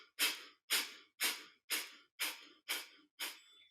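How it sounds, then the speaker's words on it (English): Breath of fire in a Kundalini yoga breathing exercise: seven sharp, forceful exhalations pushed out through the nose with the mouth closed, evenly spaced about half a second apart, close and clear with no talking. "start with the breath of fire, closing your mouth and breathing, pushing the breath out through your nose."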